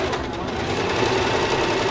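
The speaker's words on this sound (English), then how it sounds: "I'm going to sew just 1/4 inch seam allowance" A sewing machine runs steadily, stitching binding onto a shirt with a quarter-inch seam allowance; the close, continuous motor hum and needle clatter hold an even rhythm for the whole stretch, with no talking.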